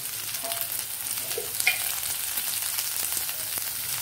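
Shallots frying with spices in a pan for radish sambar give a steady close crackling sizzle, with faint stirring movements and no voices.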